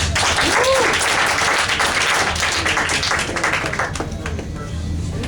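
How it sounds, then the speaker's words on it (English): Loud, dense applause and clapping from an anime convention crowd at a game-show panel keeps going throughout, with a voice speaking over it. "give a round of applause, guys"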